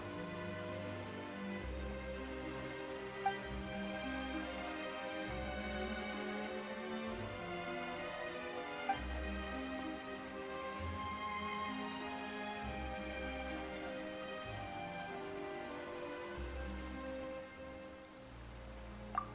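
Rain falls in the Fontaine region of Genshin Impact, a steady soft patter running continuously beneath tonal background music with no pauses.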